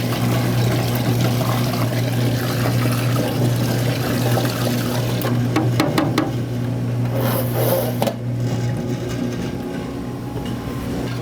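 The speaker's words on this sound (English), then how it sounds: "I'm going to take some water and add it to my sugar, create a syrup." Water is poured onto sugar in a container to make a syrup for cherry water ice, a steady splashing pour over a constant low machine hum, with some clattering near the end.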